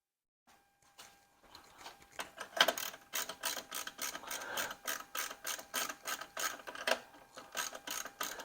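A hand ratchet with a deep socket clicks rapidly in bursts while loosening the battery hold-down bolts on a 2018 Honda Accord Sport, close and fairly loud with a steady back-and-forth rhythm.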